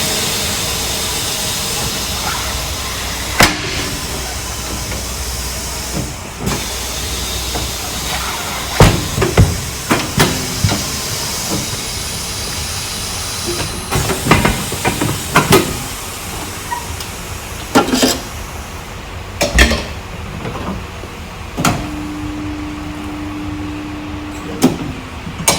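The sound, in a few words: tyre changer breaking the bead and changing a tyre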